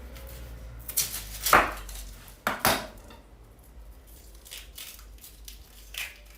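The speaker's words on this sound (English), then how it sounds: "just cut your onion, yeah? Slice it into little tiny pieces." A knife slices an onion into tiny pieces on a cutting board, giving a few sharp chopping knocks clustered early, then softer scattered clatter over a faint room background.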